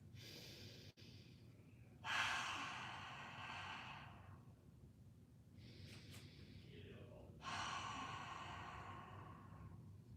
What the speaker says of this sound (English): Take 3 big inhales and exhales.